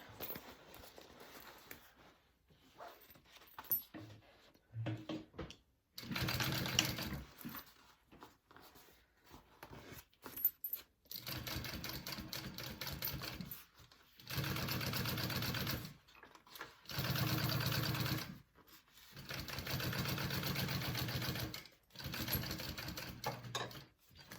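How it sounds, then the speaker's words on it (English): A sewing machine stitching and basting fabric for a bag, running in repeated bursts of steady rapid whirring with short quiet pauses between runs, close and clear with no talking. "we're going to stitch along the whole thing and baste it all down"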